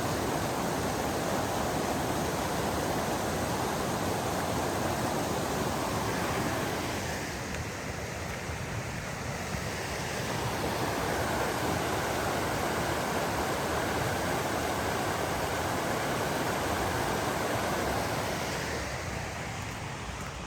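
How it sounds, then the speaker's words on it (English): Little cascading waterfalls tumble over mossy green rocks at Camp Creek. The water makes a steady, dense rushing roar close by that carries on for the whole stretch and dips briefly in the middle. "These little cascading waterfalls"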